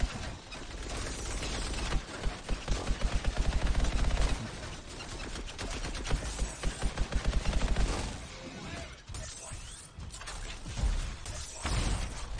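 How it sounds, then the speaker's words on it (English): A high-powered machine gun firing in the video game Anthem: rapid bursts of dense, rattling gunfire amid a loud, busy wash of game effects and impacts, with a clear fast run of shots in the middle. "So this is a high-powered machine gun."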